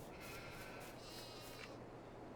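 Sheep bleat in the farm game Farming Simulator 22, a faint wavering cry standing out over a steady low hum of in-game ambience, with no talk.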